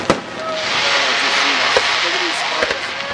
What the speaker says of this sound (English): That's so I can see the fireworks.